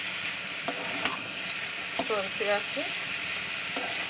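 Snake gourd fries in a pan with a soft, steady sizzle and a few light stirring clicks, as a voice speaks briefly over it.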